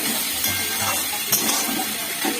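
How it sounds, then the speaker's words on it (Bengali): Snake gourd curry cooked without masala is stirred in an uncovered pan, giving a soft, continuous wet sizzle with a few brief scraping knocks, close by and without speech. "তারপর ঢাকনাটা খুলে আবার আমি এখন নাড়তে শুরু করলাম"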